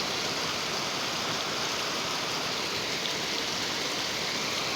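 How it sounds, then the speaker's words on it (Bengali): Steady rain falls outside a window, a soft continuous hiss with no distinct drops standing out, even and unbroken throughout with no voices. "জানালার পাশে বৃষ্টি দেখতে খুবই ভালো লাগবে"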